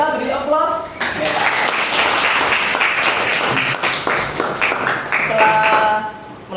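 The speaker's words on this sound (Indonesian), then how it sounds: "Kita beri aplaus." A classroom group receives applause: many hands clap steadily for several seconds in a room, with voices of students and a teacher mixed in at the start and end.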